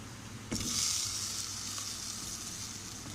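Khamchay, a sweet pastry from Swat, fries in hot oil. A sudden burst of sizzling begins partway in, then settles into a steady, close, bubbling hiss with no voices.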